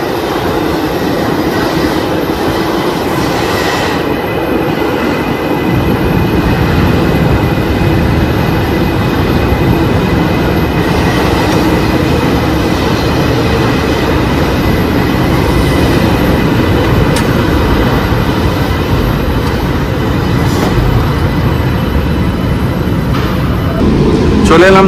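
A metro train pulls into Jessore Road metro station in Kolkata during early pre-trial runs, giving a steady, loud rumble of wheels and traction throughout, with voices talking over it.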